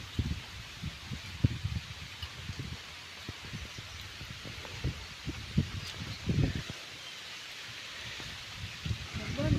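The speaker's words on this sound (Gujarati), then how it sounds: "ફૂલ વરસાદ ચાલુ થઈ ગયો." Heavy rain falls steadily outdoors in a village, a constant wash of noise with soft voices talking under it throughout.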